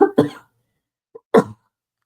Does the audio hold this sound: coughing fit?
yes